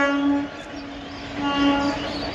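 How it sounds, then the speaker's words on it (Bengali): Train departing Balichak station toward Howrah sounds a loud, sustained horn that swells and fades over a couple of seconds, with steady rolling rumble underneath. "দেখো ট্রেন হাওড়ার দিকে ট্রেন বেরিয়ে গেল"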